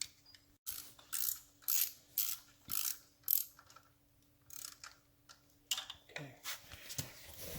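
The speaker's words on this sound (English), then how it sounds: "And we'll tighten them down to 100 inch-pounds." A ratchet tightens bolts during a bottom-end rebuild of a 1974 Norton Commando engine, giving close, crisp bursts of rapid clicking in a steady back-and-forth rhythm with short pauses between strokes.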